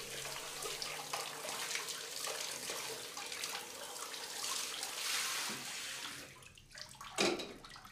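Water from a shower runs steadily with a broad hiss, continuous and moderately close, dipping briefly near the end before a short splash.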